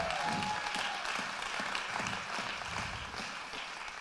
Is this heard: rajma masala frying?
no